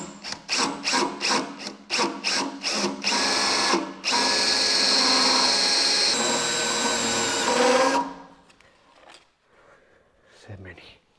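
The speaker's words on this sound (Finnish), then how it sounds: "Nyt pitää porata 2 reikää tonne kiinnikkeeseen." A power drill bores two holes into a mounting bracket on a Valmet 565.2 tractor: a string of short bursts, then a long steady whine, all close and loud, followed by quieter handling noises.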